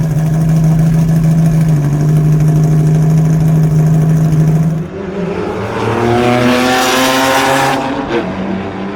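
A 1995 Porsche 911 Carrera RS with a naturally aspirated 3.8-litre flat-six hums at a steady loud idle, then revs up into a rising, rasping howl before easing back, with no voices.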